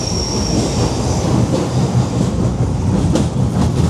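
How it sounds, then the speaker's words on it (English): A London Underground Piccadilly line train rumbles past at Leicester Square with a constant roaring clatter, faint wheel squeals and rhythmic rail clicks, loud and enclosed. "there is a whole train about 30 centimetres above your head"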